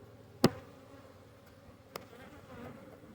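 Honeybees buzz softly at an opened hive during a January brood check, a faint steady hum with one sharp knock near the start and a lighter tap later.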